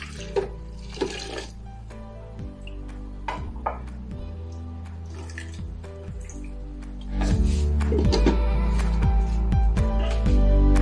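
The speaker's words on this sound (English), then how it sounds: "the next thing is by pouring my green tea in there" Green tea is poured into a detox drink, giving liquid trickles and drips with small clinks of the container, and a fuller, steadier pouring stream in the last few seconds. No one speaks.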